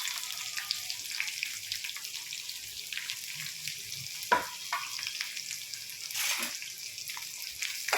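Onions and curry leaves sauté over low heat in a pan, giving a steady close hiss of gentle frying with occasional soft stirring scrapes and no voices.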